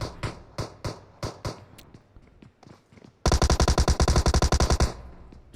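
A UMP9 submachine gun in PUBG Mobile fires several spaced single shots, then unleashes a fast, loud burst of about fifteen rounds at close range.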